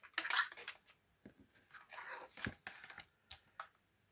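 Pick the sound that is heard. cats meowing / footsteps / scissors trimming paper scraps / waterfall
scissors trimming paper scraps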